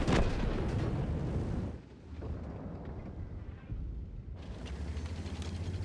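Artillery fire in World of Tanks, a loud blast at the start followed by a dip, then heavy rumbling battle noise swelling back up, with no one talking.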